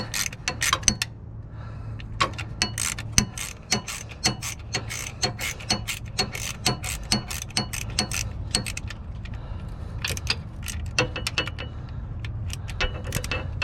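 Rapid, uneven ratchet clicks and metallic ticks from working the belt tensioner on a 1996-2004 Nissan Pathfinder to release its tension, close and steady over a low hum, with no talk.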